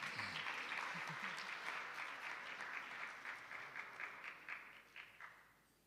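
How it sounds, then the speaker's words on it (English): An audience at a thought leadership seminar in Mpumalanga applauds a speaker coming forward, with a soft, distant wash of clapping that thins into a few separate claps before fading out. "Let's give her the hands of applause, ladies and gentlemen, as she's coming forward"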